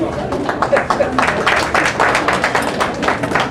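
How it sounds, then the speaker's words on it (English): A room of guests at a book launch applauds, with dense overlapping claps forming a steady, fairly loud patter that continues throughout. "Please give him a hand of applause, please."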